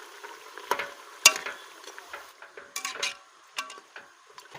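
Mutton gravy stirred in a pan over a high gas flame, with irregular scraping and clinking strokes of a spoon against the pan over a soft sizzle.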